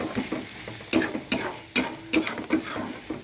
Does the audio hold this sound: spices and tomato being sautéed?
yes